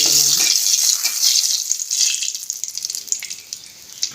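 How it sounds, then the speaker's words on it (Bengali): Nigella seeds, dried chili and a bay leaf sizzle in hot oil, a loud, close crackling hiss that gradually thins into scattered pops. "তেল গরম হয়ে গেছে, দিয়ে দেব কালো জিরা, লঙ্কা ফোড়ন, দিয়ে দেব তেজপাতা।"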